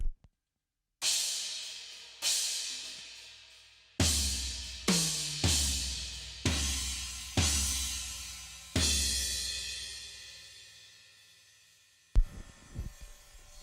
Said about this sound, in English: custom special dry crash. I'll hit it with the talkie mic on